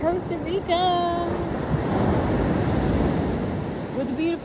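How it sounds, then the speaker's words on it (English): Large ocean waves crash and roll onto the beach at La Playa Negra, Costa Rica, a loud steady roar with wind buffeting the microphone, while a voice speaks briefly at the start and end. "the waves coming in. Oh my gosh, the waves are so huge."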